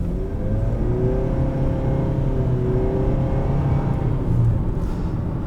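A 2020 Nissan Sentra SV with a 2-liter engine and CVT accelerates, a smooth, steady engine drone rising gradually in pitch with faint simulated shift steps, heard from inside the cabin over road rumble, with no talking.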